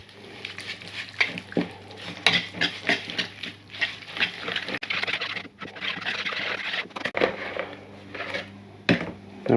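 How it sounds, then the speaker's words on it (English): Lemon zest being mixed into a mixture in a bowl, close irregular scraping and soft tapping strokes of a utensil in quick bursts, with occasional clinks against the bowl. "Now we'll mix this in."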